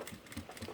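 A sewing machine runs in a brief burst while stitching a fabric 3D face mask, giving a fast, steady mechanical whir close by with no talking.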